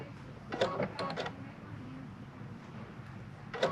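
An embroidery machine makes small positioning adjustments, giving a few quick clustered whirring and clicking bursts near the start and one more at the end over a quiet room background.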